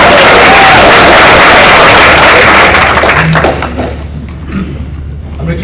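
Loud applause and cheering from a chamber lunch audience fill the room, then taper off into quieter scattered claps and murmuring as the clapping fades.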